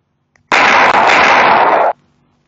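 A loud, dense burst of rapid gunfire in Minecraft Pocket Edition with a Pixel Gun mod rattles for about a second and a half, then stops abruptly into near silence.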